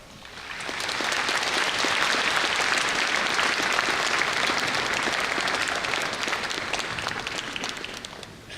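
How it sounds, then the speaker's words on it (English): A graduation audience at a senior high school ceremony breaks into loud, sustained applause that swells within the first second, holds as a dense wash of clapping, and tapers slightly at the end. "give their parents, friends, family, and teachers a round of applause"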